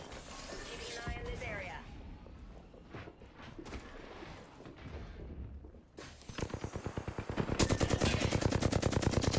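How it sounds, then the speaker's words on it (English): Gunfire during an Apex Legends esports match, with an announcer talking over scattered shots early on, then sustained rapid automatic fire building loud and dense in the final seconds. "Moore is shooting currently shooting at Shorian Red"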